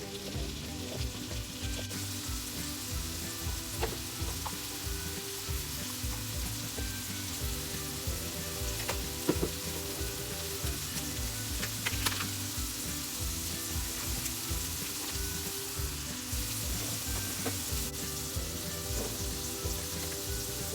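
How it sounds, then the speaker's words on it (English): Shiitake and shimeji mushrooms sizzle and crackle steadily in a hot pan, with occasional stirring scrapes and small pops over a continuous frying hiss for about twenty seconds. "Grilled shiitake mushrooms and shimeji mushrooms."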